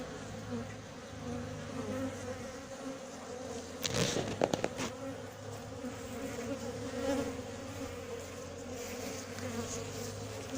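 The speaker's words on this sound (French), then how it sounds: "Ça, c'est clair que c'est des abeilles qui ont du caractère." Honey bees buzz steadily from an opened, queenless hive during an inspection in Montgeron, a dense continuous drone that fills the whole clip, with a brief burst of sharp clicks and knocks partway through.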